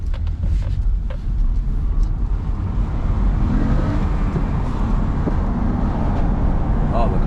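A Honda Accord driving on the road, with a loud steady engine and road rumble filling the cabin throughout, close and constant with no letup.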